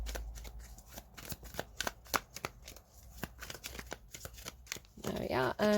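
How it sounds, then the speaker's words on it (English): A deck of tarot cards is shuffled in a run of quick crisp riffles and taps, ending in a louder burst of handling noise. "I'm going to put it in the middle of the deck. Give it a good shuffle."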